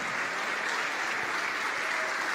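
A church congregation applauds during a sermon, a continuous, dense roll of many hands clapping at an even level throughout.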